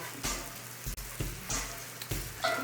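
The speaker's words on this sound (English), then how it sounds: "Go ahead and add just a little bit more oil to the pan." Food sizzles in hot oil in a pan, with a steady frying hiss broken by several louder bursts of spatter or stirring, close and clear.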